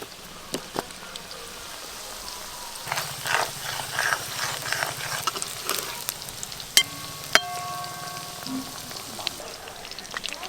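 Pieces of fish frying in hot oil for a Bengali fish recipe, a steady close crackling sizzle that continues throughout, with a few sharp clinks and stirring sounds over it.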